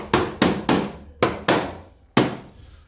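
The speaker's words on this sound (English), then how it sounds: "So you can use your soft tip hammer and just gently tap away" A soft-tip hammer gently taps an aluminium sliding door's infill panel into its frame: six sharp, close knocks in an uneven rhythm, each decaying quickly, with no talk.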